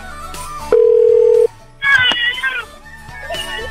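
A telephone ringback tone heard while a radio station calls a listener, a single steady held tone near the start, then brighter electronic chiming, set against quiet background sounds.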